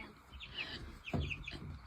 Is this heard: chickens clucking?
yes